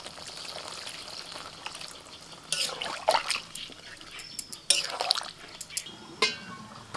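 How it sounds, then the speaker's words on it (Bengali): Water splashes and trickles into a pan of potol and prawn curry in a few uneven bursts, close and moderately loud over a quiet kitchen background. "এবার জল দিয়ে দিচ্ছি।"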